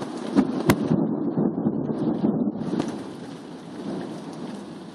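Coastal thunderstorm with steady rain hissing on surfaces and a sharp close thunder crack early on, then continuing rainfall with low rumbling, no voices.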